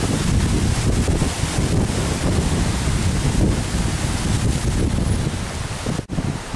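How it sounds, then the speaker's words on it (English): Steady, loud wind buffeting the microphone, a constant roaring rush with a brief dip near the end. "Oh my gosh, it's windy."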